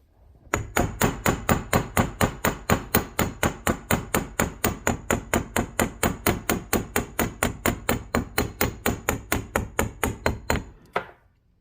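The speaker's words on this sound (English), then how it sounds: "I'm not hammering too hard" A hammer strikes a wire bead frame pendant in a fast, even series of about forty sharp metallic taps, close and moderately loud, with no talking.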